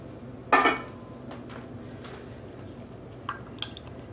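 A single sharp clink of a utensil against a container, followed by a few faint taps and scrapes in a quiet room, while stirring acid dye powder into warm water to make a blue dye stock solution.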